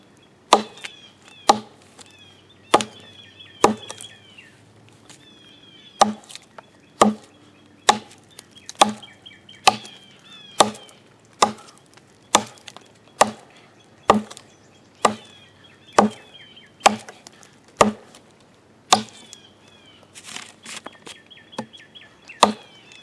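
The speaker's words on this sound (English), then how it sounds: "so I'll just kind of chop for a moment and kind of see where we're at here" A HardCore Hammers hatchet chopping wood, about twenty crisp, sharp thwacks at a steady rhythm roughly every second, close and loud with no talking.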